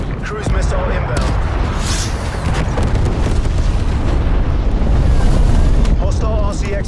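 Cruise missile explosions in Call of Duty Cold War, dense booming blasts and rumbling eruptions filling the clip loudly, with game voice callouts and other battle noise layered over the top.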